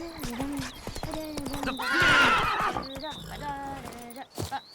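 A horse in The Witcher 3 gallops with pounding hoofbeats, then lets out a loud, drawn-out neigh in the middle before the hooves carry on, with a voice briefly audible among the sounds.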